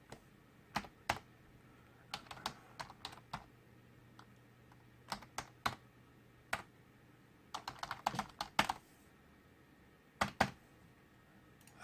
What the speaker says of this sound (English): So that's what you're typing in.